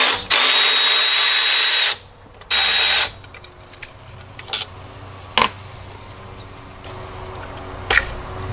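A power tool backing out 8mm bolts on a Dodge Challenger SXT throttle body, two loud bursts of close whirring followed by a few short ratchety clicks and taps in a quiet garage.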